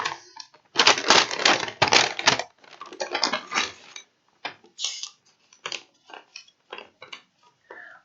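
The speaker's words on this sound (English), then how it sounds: "Sorry for crinkling." Loud close crinkling of a Christmas gift package being opened, with dense crackling bursts at first, then sparser short rustles and crackles.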